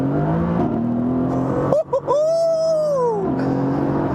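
A car with a 7-speed dual-clutch gearbox in race mode, traction control at its least restrictive, accelerating hard: a loud engine rising in pitch through the revs with a brief gap at a gear change, close by and steady.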